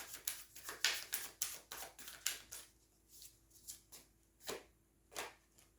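A deck of tarot cards is shuffled by hand in a quiet room: a quick series of crisp riffling bursts, close and clear, spaced irregularly and slowing toward the end.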